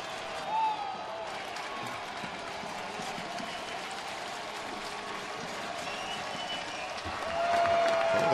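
A baseball stadium crowd at an Oakland A's home game against Houston applauds and cheers as the home team nears a final out, a broad, sustained wash of clapping that swells louder toward the end.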